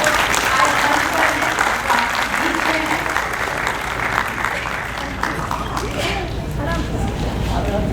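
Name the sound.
audience applause for the women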